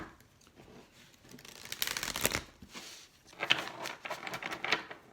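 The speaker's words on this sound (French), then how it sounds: "je vais brasser les cartes." Tarot cards being shuffled by hand, a steady papery riffling and flapping that swells in bursts, close and fairly quiet, with no talking.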